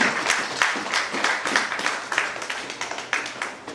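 A church congregation at an evangelical service in Paris clapping in a steady rhythmic beat, many hands together, fairly close and sustained.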